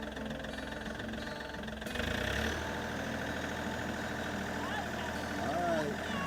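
A tractor engine runs steadily at a loud, droning idle, its pitch rising slightly as the RPM is raised, with people speaking over it.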